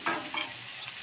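Beetroot fries in a pan, giving a soft, steady sizzle with a faint stir near the start.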